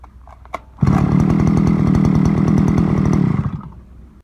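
Forte petrol brush cutter under repair after a compression problem, its small two-stroke engine catching after a brief pull and buzzing loud and close for nearly three seconds before winding down, no voices.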